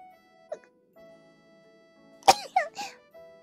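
A single sharp sneeze bursts out after a quiet stretch, followed by a few short vocal sounds, close and clear against near silence.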